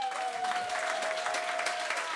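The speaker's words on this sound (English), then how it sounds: "Get a huge round of applause for Yuks, everybody." An audience at a comedy special claps steadily in a dense burst of applause, with no talk over it.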